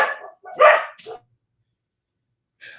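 An Australian Shepherd barks a few times, sharp and fairly close, in a short burst followed by silence and then one more brief yip.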